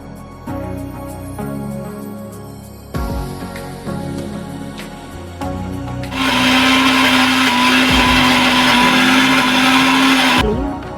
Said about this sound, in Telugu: అవన్నీ వేసి మిక్సీకి వేసుకుంటే బెండకాయ ఫ్రై కోసం మసాలా రెడీ అయినట్టే